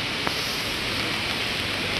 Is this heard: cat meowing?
no